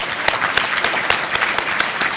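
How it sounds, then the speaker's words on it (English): Dense applause from an audience at a chamber of commerce awards gala, a steady wash of many hands clapping fairly close with sharp individual claps standing out. "Give yourselves a round of applause."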